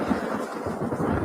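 Rumbling thunder rolls through a thunderstorm, a steady low, dull roar that stays loud and continuous without a sharp crack.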